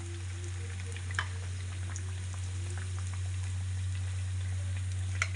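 Capsicum tikki snacks fry in hot oil with a constant soft bubbling sizzle, a low steady hum beneath and occasional faint pops and clicks.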